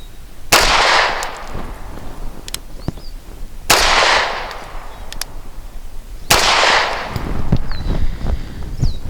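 Three sharp Grand Power K100D pistol shots crack at an outdoor range, spaced a few seconds apart, each loud and close with a brief trailing echo.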